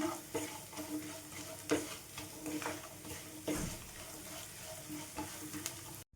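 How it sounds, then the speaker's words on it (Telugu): A spoon scrapes and stirs curry leaf paste through rice in a pan, with a light sizzle and occasional knocks against the pot, no voices. "ముందుగా మనం గ్రైండ్ చేసి పెట్టుకున్న కరివేపాకు పేస్ట్ని వేసేసుకుందాం ఇందులో"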